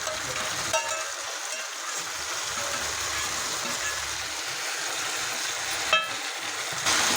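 Washed minced mutton is stirred in a pan with onions and turmeric, giving a steady sizzle with occasional scraping clinks of the utensil, with no talking.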